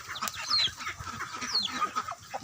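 Chickens and ducks at a farm cluck and squawk excitedly while being fed, with overlapping high calls and clucks close by.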